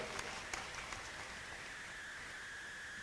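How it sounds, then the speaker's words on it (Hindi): Audience at a Jain memorial gathering clapping, a dense, even wash of applause from a crowd that carries on steadily at moderate distance with no talking over it. "जोर से बजाइएगा, कंजूसी कर रहे हैं आप तालियां बजाने में।"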